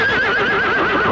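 A horse gives a loud, close, wavering whinny lasting about a second, heard alone in a comedy film scene.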